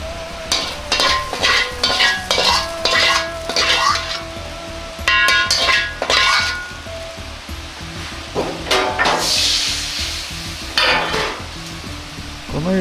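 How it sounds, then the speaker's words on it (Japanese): A metal ladle scrapes and clinks against a pan and plate in a series of short strokes, scooping lard-fried rice, over a low background hiss. "お玉にチャーハンをすくい、 皿に盛り付けます。"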